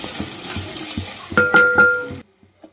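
Chili powder fries in hot oil in a pan while it is stirred, a steady close sizzle broken by scraping stirs and a few clinks before the sound stops abruptly.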